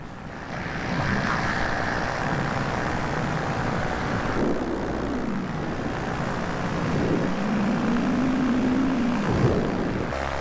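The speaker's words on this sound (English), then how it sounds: "Some more paramotor pilots out today." Paramotors fly nearby outdoors over a small village, their propeller engine drone rising and falling in pitch as they pass, steady and fairly loud against wind noise.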